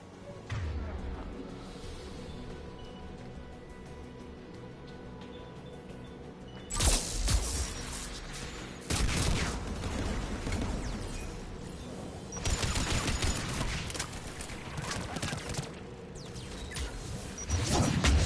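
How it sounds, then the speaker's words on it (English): Anti-aircraft guns firing in the Mass Effect 3 video game, heard as bursts of loud, crackling gunfire and blasts over a droning battle background, with intermittent speech. "There, the anti-aircraft guns."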